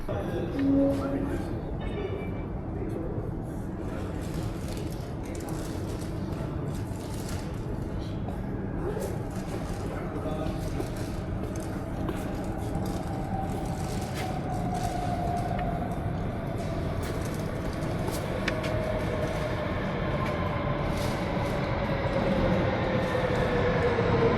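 A Copenhagen M1 metro train rumbles steadily along the track, its rising whine of motors and wheel noise filling the car, with faint voices in the background.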